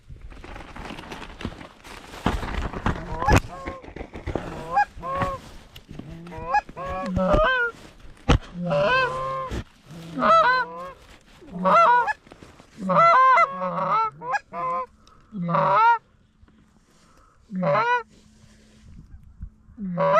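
Flock of geese honking during a field hunt, many loud overlapping honks and calls close by that thin out into separate honks.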